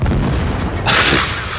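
Tank ammo rack detonation in World of Tanks Blitz, a loud deep boom that swells into a bright hissing crackle of burning debris, close and alone without speech.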